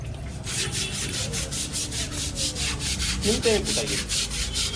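Sandpaper rubbing on a surface during home repair work, a loud close rasp in steady back-and-forth strokes of even rhythm, with a faint brief voice-like sound partway through.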